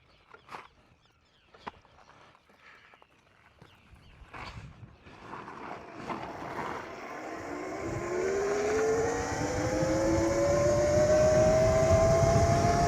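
An X-PRO DRAX 72V electric bike rides back and forth, starting with scattered knocks and rustles, then a rising motor whine that swells louder and steadier as the bike approaches and passes close by.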